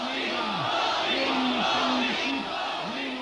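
A crowd of FDJ youth cheers at a rally from a grandstand, a loud, sustained roar of many voices with rhythmic rising and falling chanting that swells and continues throughout.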